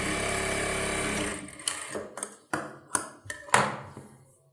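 A sewing machine runs in a close, steady mechanical whir while stitching the side seam of a kids' pattu pavadai silk skirt, then stops and gives way to several sharp clicks and clacks of handling.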